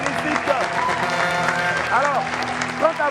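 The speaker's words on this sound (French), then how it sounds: "Je vous demande déjà d'applaudir très fort, s'il vous plaît." Applause and crowd noise at a French-speaking event announcement, clapping mixed with cheering and loud voices, continuous with whoops rising near the middle and end.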